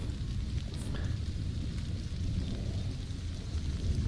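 Steady broadband rain in the survival game Stranded: Alien Dawn, a continuous even wash holding at constant loudness with faint rumbling underneath and no voice.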